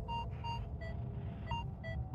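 A metal detector sounds low-tone signals while hunting for coins and jewelry, producing repeated short electronic beeps in a steady pulsing pattern over a constant low rumble.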